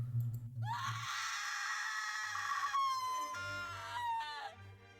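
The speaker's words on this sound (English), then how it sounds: "Seconds later, a shriek rang out." A shrill, sustained shriek in a mystery video game, loud and wavering, rising abruptly and holding for several seconds before cutting off, over a low rumbling background.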